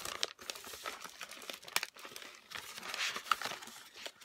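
Crinkling and tearing of paper and plastic as a cardboard parcel of craft supplies, glitter paper and foil gift bags is opened, a steady close rustle with sharper crackles throughout.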